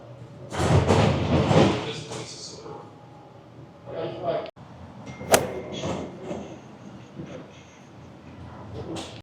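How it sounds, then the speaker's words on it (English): A shop's side door opens at Magic Kingdom with a short clunk and a thud, set among busy crowd chatter and the bustle of people passing by. "we're gonna go in through the side door"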